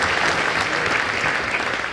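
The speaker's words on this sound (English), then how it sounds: "let's give a round of applause to all our officers" Audience applause for officers at a regional conference, a steady dense clatter of many hands clapping, loud and continuous throughout.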